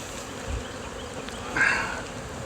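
Honeybees hum steadily from an open hive, a soft close drone with one brief louder swell of buzzing near the end; nobody talks.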